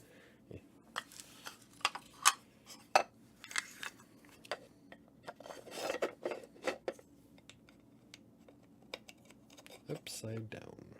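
A wooden tiger puzzle box from Hawaii gets handled, its sliding keys giving sharp clicks, taps and scraping knocks in an irregular sequence, fairly close and quiet.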